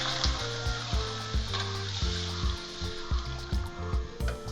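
Spice paste for a Bengali tangra fish curry sizzles and bubbles in a hot pan as hot water goes in, a steady close frying hiss broken by repeated low thumps and stirring knocks, with no talking.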